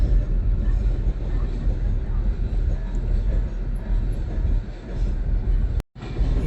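Train rolling past a gated railway crossing on a road route toward Vashi, a steady loud rumble of wheels and cars, with ambient road noise and a brief cut near the end.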